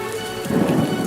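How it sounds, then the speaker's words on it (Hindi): Heavy cartoon-style rainfall hisses steadily while a deep rumble of thunder swells in partway through, loud and continuous with no voices. "अचानक तेज बारिश शुरू हो गई।"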